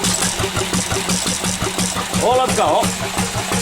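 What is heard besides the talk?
Lister engine running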